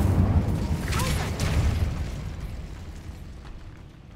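An Incendio fire spell cast in Hogwarts Legacy, a loud whooshing burst of flame with a heavy low rumble at the start, fading gradually over several seconds.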